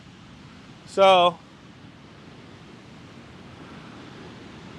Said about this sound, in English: These are good sized waves.